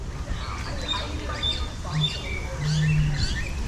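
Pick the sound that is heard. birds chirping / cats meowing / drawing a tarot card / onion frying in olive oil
birds chirping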